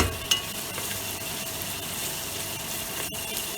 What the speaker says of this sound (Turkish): Şöyle salçamızı kavuruyoruz.